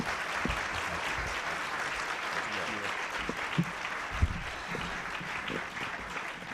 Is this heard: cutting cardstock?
no